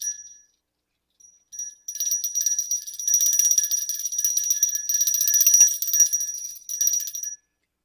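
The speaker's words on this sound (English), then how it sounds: "I'm going to ring my brass bell." A brass bell rings steadily for several seconds: a rapid, bright, shimmering tinkle that comes in short bursts at first and then becomes a sustained jingling, with brief pauses, fairly close and with no voices.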